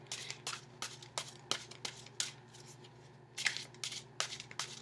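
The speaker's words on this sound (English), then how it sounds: "Let me get one last shuffle here." Tarot cards are shuffled by hand in a quick series of crisp riffling bursts, close and fairly quiet, with no talking.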